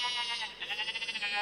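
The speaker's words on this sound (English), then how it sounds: "I think we heard enough goat sound for this day" A synthesized goat bleat from a React Native audio demo: a buzzy, harmonic tone whose wobbling vibrato pulses quickly through its middle, heard up close and alone for about a second and a half.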